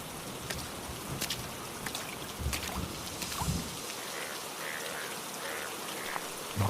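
Rain falls at a quiet market, a soft steady patter with scattered drops and a few faint bumps, distant and without voices.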